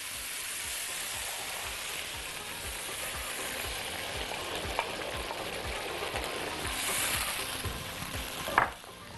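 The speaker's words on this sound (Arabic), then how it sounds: "الشوربه بقى تكون كده سخنه ومغليه، وابتدي انزلها فوق الخضار" Hot boiling soup is poured over vegetables in a pot, producing a continuous rushing, bubbling sizzle with rapid low pulses, swelling slightly near the end before a brief clatter.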